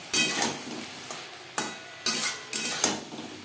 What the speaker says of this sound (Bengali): মশলা ও বেগুনের সাথে লবণ হলুদ ও লাল লঙ্কার গুঁড়ো বেশ ভালো করে মিক্স করে দেবো